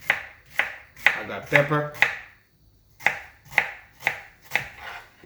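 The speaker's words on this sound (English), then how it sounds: "Let's cut up some vegetables. I'm using onion." An onion is chopped with a knife on a board: sharp, evenly spaced thuds come close and clear, pausing briefly while a person speaks a few words before the steady chopping resumes.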